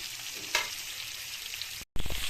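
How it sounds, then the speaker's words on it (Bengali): Spices and turmeric fry lightly in a pan, giving a steady hiss with a sharp spatter and clink of a spoon early on, a brief cut to silence, then more sizzling and stirring. "এবারটা দু মিনিটের মতো একটু হালকা করে একটু ভেজে নেব"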